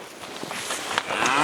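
Poll Charolais cows and calves mooing in a group, several overlapping low calls building in loudness, fairly close with no talk.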